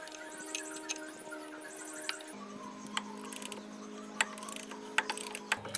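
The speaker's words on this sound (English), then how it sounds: "There's 2 mounting bolts, 12 millimeter and a 17 millimeter. We'll loosen those," Clicky ratcheting from a hand wrench working loose 12 mm and 17 mm mounting bolts on a golf cart, a series of sharp irregular clicks close by over a steady mechanical background hum, with no talking.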